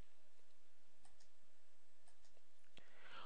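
A few sparse, quiet computer mouse clicks, spaced about a second apart, during a Microsoft Dynamics AX software setup in a near-silent room with no talking.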